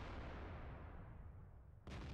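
A booming artillery blast from a Bat.-Châtillon 155 55 in World of Tanks rolls out and decays into a long low rumble, then a second sharp report hits near the end.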